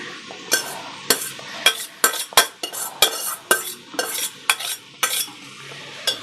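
A spoon stirs rice with jaggery and sugar in a pot, making loud, close scrapes and clinks against the metal in a brisk, repeated rhythm, with no talking.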